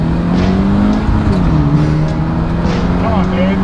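A Scion FR-S and a Hyundai Genesis coupe launch from a roll in a side-by-side race, engines droning loud and close with rising rev tones, while people talk over the noise.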